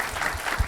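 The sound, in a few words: applause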